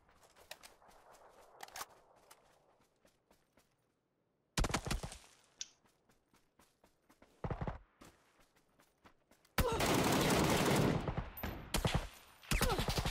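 Bursts of gunfire from the battle royale game PUBG, loud rapid volleys in sharp clusters separated by quiet gaps, with a sustained heavy barrage near the end.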